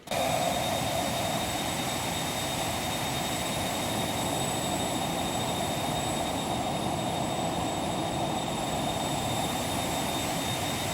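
Steady, loud roar of a Phenom 300 business jet's engines cruising at flight level 400 in X-Plane 11, a broad continuous rush with a thin high whine running unbroken throughout, no voices.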